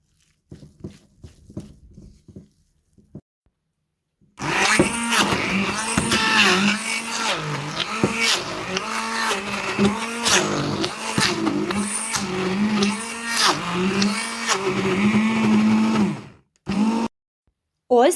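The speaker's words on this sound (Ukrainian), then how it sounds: "Викладаю фініки до сира і буду все збивати блендером." An electric blender whirs loudly and continuously for about twelve seconds, whipping dates into cottage cheese, preceded by a few soft scraping sounds and ending with a short final burst.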